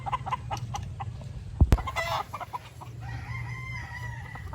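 Gamecock stags at a game farm crow and cluck nearby, with repeated short clucks, one loud sharp call, then a drawn-out crow over steady outdoor background noise.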